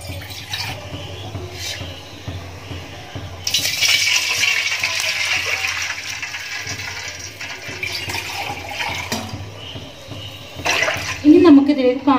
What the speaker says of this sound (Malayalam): അപ്പോൾ നമുക്ക് ഇതിൽ 1/4 കപ്പ് വെള്ളം ഒഴിച്ചു കൊടുക്കാം.